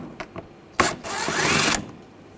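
A ratchet with an 8mm socket turns out a screw holding the front inner fender liner of a 2007-2013 BMW 328i, giving one rapid, buzzing clicking run of about a second, close and fairly loud, with light knocks just before.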